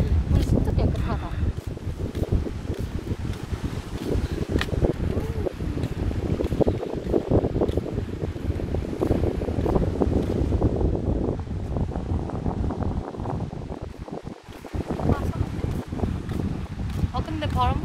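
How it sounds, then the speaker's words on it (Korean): Wind gusting across a coastal walking trail on a peninsula, heavy continuous buffeting and rumble over the microphone throughout, with people talking beneath it. "근데 바람 불어서 다행이다"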